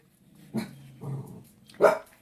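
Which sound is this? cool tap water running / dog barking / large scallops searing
dog barking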